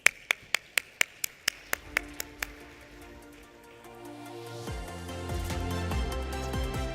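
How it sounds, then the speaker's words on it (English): About ten sharp claps in a steady rhythm from a conference main-stage audience open the clip, then fade out as low music swells in and builds. "a warm round of applause"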